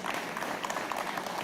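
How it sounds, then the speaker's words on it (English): An audience at a farm show launch event claps, a dense, even wash of applause heard from a moderate distance throughout. "Let's give him a great big round of applause"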